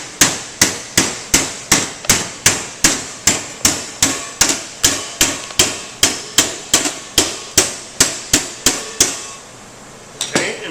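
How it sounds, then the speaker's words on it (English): Steady series of sharp metallic hammer blows bending over both ends of a sheet-metal S-cleat, about two strikes per second, close and loud with no talk, ending with a brief pause and a softer tap. "Your S-cleat is in place, and now you take the hammer"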